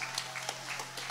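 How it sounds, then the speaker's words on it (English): Applause for new graduates at a graduation ceremony, scattered individual claps heard faintly at a distance, sparse and uneven across a short moment. "Round of applause, officially graduates"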